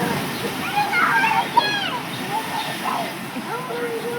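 Water sloshing and splashing during Tropical Storm Sandy, a continuous wet wash heard up close, with voices talking over it.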